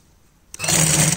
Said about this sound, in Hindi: अब साइड वाली सिलाइयाँ लगा रही हूँ।